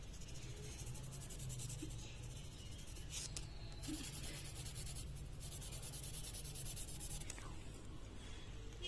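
A pencil shades across paper in a drawing lesson, producing soft, continuous scratchy rubbing strokes that are close but quiet, with a few brief pauses between passes.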